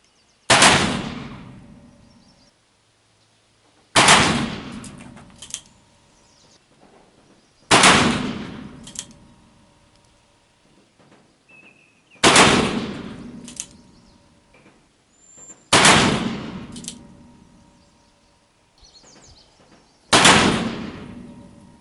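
Six loud, close gunshots from a Pietta 1858 Remington Army .44 revolver with a case-hardened frame, fired one at a time a few seconds apart, each bang sharp and followed by a short ringing decay.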